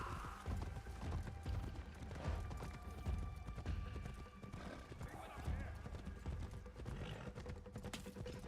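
Horse hooves clip-clop steadily in the Assassin's Creed video game, with an occasional whinny and game sounds underneath and people talking over them.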